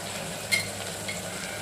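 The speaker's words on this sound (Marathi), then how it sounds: "बारीक चिरलेले टोमॅटो आणि मक्याचे दाणे आपण आता तेलामध्ये व्यवस्थित परतून घेणार आहोत।" Chopped tomatoes and corn kernels fry in oil for a quick desi pasta, giving a steady close sizzle with a brief louder crackle of stirring, and no voices.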